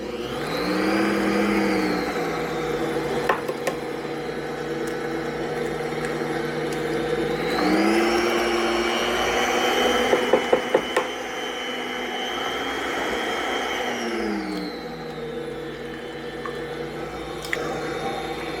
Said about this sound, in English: So I'm going to turn my mixer back on